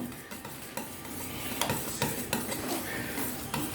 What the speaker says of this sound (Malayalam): നമുക്ക് ഒന്നുകൂടെ നന്നായിട്ട് മിക്സ് ചെയ്യാം.